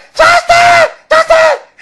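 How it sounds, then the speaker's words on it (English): A man gives two pairs of high, shrill excited screams in the manner of a fan, each burst short and loud, separated by a brief pause. "I start screaming like a groupie"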